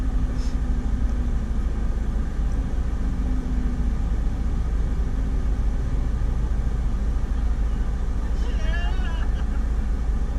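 An off-road vehicle's engine idles and works in first gear during a crawl ratio test, giving a steady low rumble under wind noise, with a brief whine late on.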